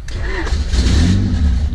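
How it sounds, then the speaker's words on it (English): A racecar engine cranks and catches, firing up into a loud, rough running rumble close by. "Car turns on,"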